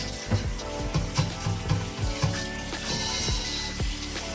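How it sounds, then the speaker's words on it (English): Potatoes rinsed under a running kitchen tap, a steady hiss of flowing water with repeated knocks and clatters of potatoes against the sink, close and continuous, no talking. "Wash our potatoes, rinse them off, give them a nice rinse."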